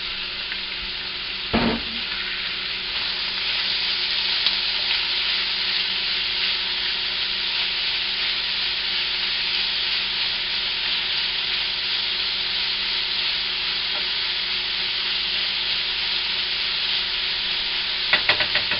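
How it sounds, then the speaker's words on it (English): Ground turkey browns in a pan for mapo tofu, giving a steady, close frying sizzle that runs throughout, with a couple of brief knocks and stirs near the start and end and no talk. "I toss in my ground turkey. And what I'm doing is I'm basically browning the meat"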